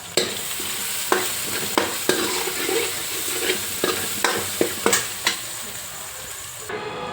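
Spice tempering (tadka) sizzles in a pan as a steady bright hiss, punctuated by regular sharp clacks of a spoon scraping and stirring, roughly every half second to second, ending with a brief louder clatter.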